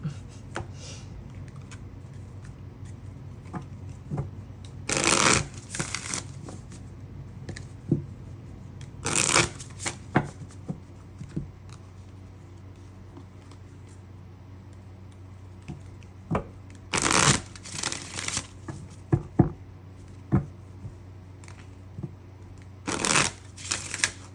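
Tarot cards are shuffled close by in repeated soft riffling bursts with papery flicks and taps between them, over a low steady background hum.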